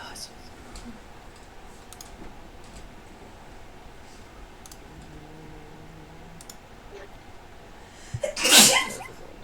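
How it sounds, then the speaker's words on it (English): A single loud, sharp human sneeze bursts out near the end, close to the microphone, after quiet keyboard tapping and faint background sounds. "I sneezed on it."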